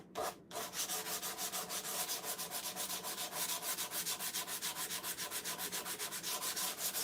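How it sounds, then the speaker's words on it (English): Fast rhythmic rasping of sandpaper rubbing back and forth over a paper edge, steady and close, with strokes repeating several times a second and no voices. "So again, just sanding over the edge."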